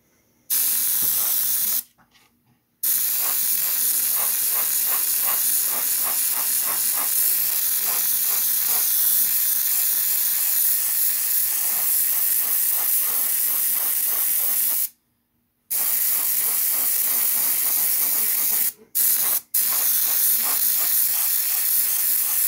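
An airbrush sprays Vallejo Model Air White Grey base coat onto a Miranda-class starship model, a steady loud hiss in long continuous bursts with a few short breaks between passes.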